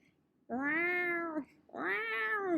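A human voice imitates a cat, giving two drawn-out, nasal meows, each about a second long with a short pause between them, close and fairly loud, with no other sound.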